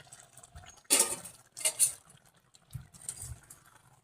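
A metal lid is lifted off a pot of cooking potol and prawns, giving a bright clattering clink, a second scrape-and-clink shortly after, then softer handling sounds.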